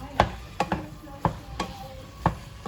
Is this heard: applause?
no